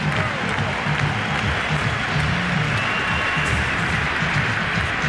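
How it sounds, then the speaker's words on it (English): Baseball crowd at a 2003 American League Championship Series game between the Yankees and Red Sox standing and applauding, a steady, dense wash of clapping and cheering that holds at even volume throughout. "So Varitek caught the attention of these fans. They're standing and applauding."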